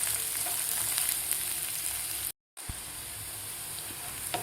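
Garlic, ginger and onion frying in oil, a dense continuous sizzle and hiss, broken by a brief silent cut midway, with no talking.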